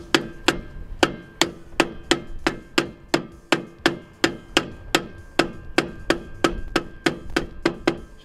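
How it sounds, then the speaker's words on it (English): Steady, even hammer-like taps as a dust cover is driven onto a trailer wheel hub packed with grease, about twenty sharp metallic knocks in a regular rhythm, close and fairly loud, with no talking. "Now we just put our dust cover on here."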